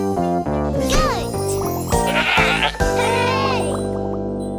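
A goat bleats several times, the wavering cries sitting over a bright, bouncy children's song with steady musical accompaniment.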